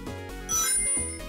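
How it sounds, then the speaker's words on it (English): Ring collection dings in the Sonic Totem game, a bright bell-like chime ringing out over steady game music, loud and close, with a short repeated ding pattern. "when you collect a lot of rings all at once, it makes a loud sound"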